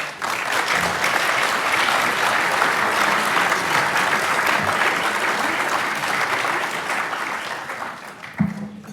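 An audience at a lecture on energy-efficient building retrofits applauds, steady dense clapping from a roomful of people that holds for several seconds and then tapers off, ending with a brief thump.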